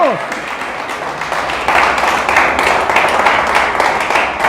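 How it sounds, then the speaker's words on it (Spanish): Church congregation applauds during a Spanish-language sermon, a broad rush of clapping that swells louder partway through, with some voices mixed in. "Dele fuerte el aplauso a Dios"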